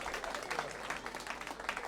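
A comedy club crowd at The Comedy Store claps in a dense, even patter that holds steady throughout, with voices mixed into the applause.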